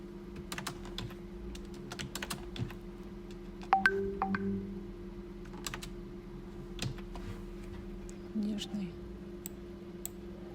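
Keys clicking on a computer keyboard while text is typed into presentation software, a run of light, scattered taps over a steady low electrical hum, with a few brief tones and no talk.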